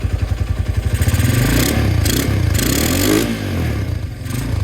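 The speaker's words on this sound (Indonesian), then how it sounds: "Kita kali ini riding pakai Honda Tiger spek mesin standar ya bolo ya." A Honda Tiger motorcycle with a standard engine and standard carburettor, ridden on a road in sunny weather: a loud, close engine with pulsing exhaust that revs up, holds a steady roar with some clatter, then eases off and picks up again.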